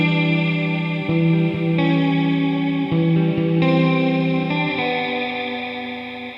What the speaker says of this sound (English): long decay times can add a lot more drama to the sound